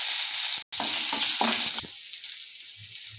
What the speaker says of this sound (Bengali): তো আমি তেল দিয়ে নিলাম। তো কালো জিরে দিয়ে দিচ্ছি, সব শুকনো লঙ্কা দিয়ে দিচ্ছি